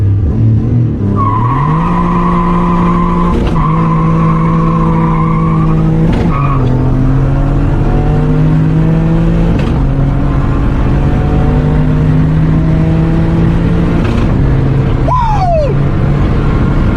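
A Megasquirt-tuned car accelerates hard through the gears with loud engine harmonics rising and dropping at each shift, tires squealing in sharp bursts, with a high skid chirp near the end; no talking.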